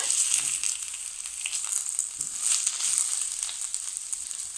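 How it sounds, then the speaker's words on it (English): Oil crackles and sizzles steadily in a pan as ingredients are sautéed for a brinjal curry with nuts and spices, a continuous close hiss with small popping bursts. "Add more cooking oil and saute it until they become translucent."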